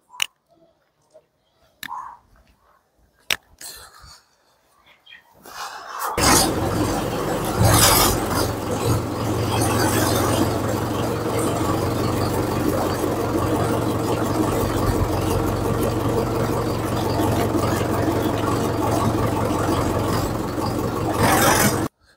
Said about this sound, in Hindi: चलो दोस्तों ट्रैक्टर को बाहर लेके चलते हैं।